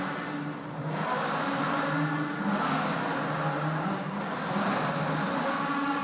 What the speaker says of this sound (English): the cars rev and light up the rear tyres as they make their way to the grid boxes